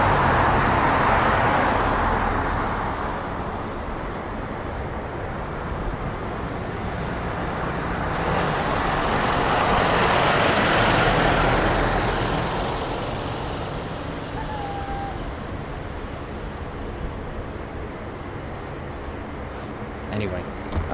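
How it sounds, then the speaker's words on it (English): Rolls-Royce AE 2100 turboprop engines on a US Air Force MC-130J Commando II at RAF Mildenhall run as a broad, steady roar that swells, eases and swells again, heard from some distance. "you can hear the lovely engines of the 2100 Rolls-Royce engines running on the MC-130J Commando 2"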